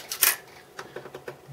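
The mirror lockup dial on a Mamiya RB67 lens is lifted and turned, giving one sharp mechanical clack followed by several small, evenly spaced ratcheting clicks up close.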